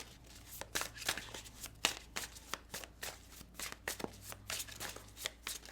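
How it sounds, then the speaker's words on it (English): Tarot cards being shuffled by hand, a close series of crisp riffling flutters and soft slaps in an uneven rhythm, quiet, with no talk. "We'll see if I can get through shuffling these without having a blowout"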